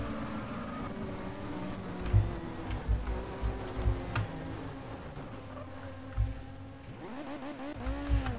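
A Formula 1 car engine in the racing video game RACE 07 drones and revs through gear changes, a steady whining tone with rising sweeps and bumps near the end.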